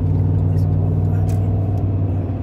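An oncoming car drives past on a curving canyon road, heard from inside a moving vehicle as a steady low rumble with engine drone that holds throughout, without clear speech.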